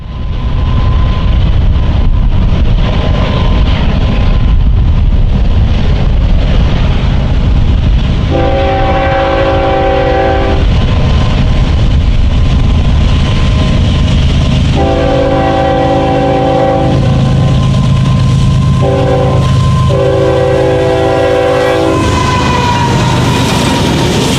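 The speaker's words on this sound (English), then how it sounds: "Ohio, with Manifest Train 17M charging west." A Norfolk Southern manifest freight train, 17M, over two miles long and pulled westward through Ohio by three General Electric locomotives, rumbles past loudly while its horn sounds three separate long blasts.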